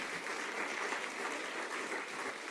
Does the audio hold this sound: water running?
no